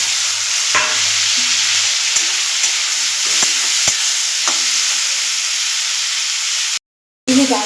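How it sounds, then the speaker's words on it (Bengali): Potatoes fry with turmeric in a pan, giving a loud, steady sizzle and hiss close by. Occasional scrapes of a spatula stir through it, and the sound cuts out briefly near the end. "এবার দিয়ে দেবো একটু হলুদ দিয়ে আর একটু এটাকে ভেজে নেব। আলুটা আমার ভাজা ভাজা হয়ে এসছে।"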